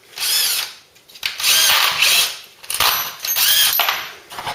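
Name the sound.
power drill drilling out a rivet on Ford Cortina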